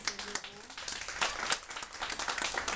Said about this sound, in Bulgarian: Аплодисменти за Ватори Димо.